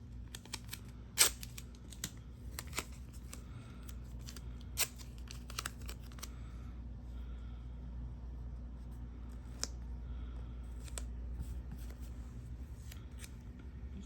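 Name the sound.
scissors cutting paper scraps for a junk journal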